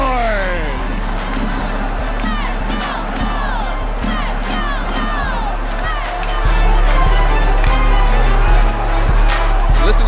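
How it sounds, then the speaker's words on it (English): A packed hockey arena crowd roars after a goal in a Gulls versus Reign rivalry game, loud sustained cheering and shouting that surges louder partway through, with an excited announcer talking over it. "Listen to the crowd right now."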